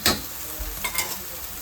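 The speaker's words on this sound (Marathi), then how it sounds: "आता मी वाटायला टाकतो, ते देखील परतवून घेते." Ground masala paste for matar paneer frying in a pan: a brief close sizzle with a sharp stir scrape at the start and a few soft stirring taps.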